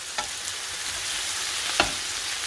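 Beaten egg mixture sizzles steadily in a hot frying pan, a loud continuous hiss with a couple of brief sharp crackles, and no talking.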